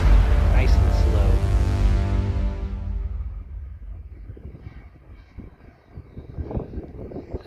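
A ViperJet model jet comes in to land with its throttle pulled back. A loud turbine roar fades steadily as it passes and moves away, leaving faint rumble and wind noise.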